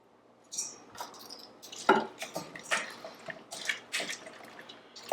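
Shrimp tossed by hand through egg wash and flour for fried shrimp, making close, wet squelches and light clinks in an irregular run of short bursts.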